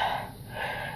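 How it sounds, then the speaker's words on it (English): Heavy, rasping breathing up close, a sharp gasping intake followed by a long wheezy exhale, with no talking. "You're heavy breathing."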